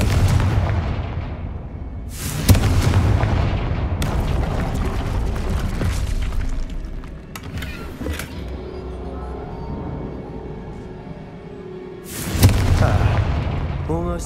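A Confringo blasting spell in Hogwarts Legacy, several loud booming explosions, one near the start, another around the middle and a final heavy blast near the end, with fainter rumbling in between.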